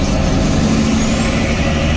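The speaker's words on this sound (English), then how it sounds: "want you to hear this truck" A truck rumbles close by on a road, a loud steady engine drone with a faint rising whine, heard from a nearby vehicle without talk.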